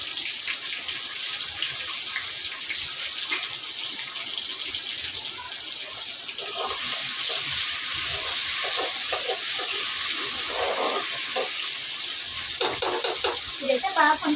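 Chicken frying in a pan with tomato and spices, a steady loud sizzle throughout, with scraping stirring strokes growing busier toward the end.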